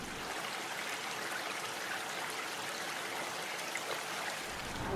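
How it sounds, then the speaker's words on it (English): Soft, steady flowing water, a gentle continuous wash like a calm river with light trickling, no voices. "so there's a calm river sound."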